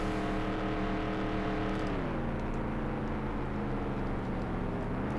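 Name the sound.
race car engine driving, NASCAR 98 video game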